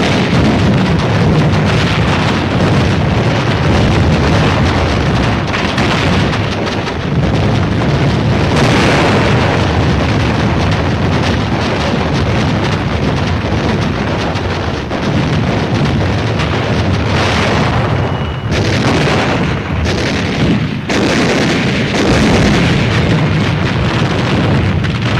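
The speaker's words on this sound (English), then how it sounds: "Suribachi from the air, supporting ships deliver point-blank fire." Naval gunfire pounds Mount Suribachi on Iwo Jima, a continuous loud roar of heavy booms and rumbling blasts that stays dense and sustained throughout, with no voices over it.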